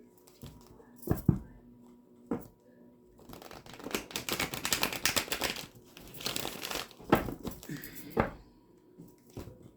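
Tarot cards are shuffled in several bursts of rapid riffling and crinkling, separated by short pauses and a few soft taps, close and fairly quiet.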